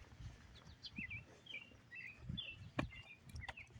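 Morning birdsong, several small birds chirping and trilling at moderate distance in short, scattered phrases over a low background hum.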